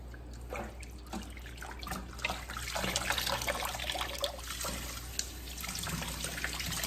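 Tap water runs steadily into a kitchen sink while greens are washed, a continuous splashing wash with occasional louder splatters and trickles, close by and with no talking.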